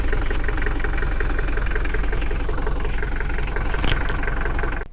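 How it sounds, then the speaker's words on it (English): A 1982 Mercedes-Benz W123 240D diesel engine runs steadily nearby, a loud, constant clattering idle with a rapid knocking rhythm throughout and no voices. "So now I'll show you the engine sound of the car. As you can see, it is quite a bit of noise."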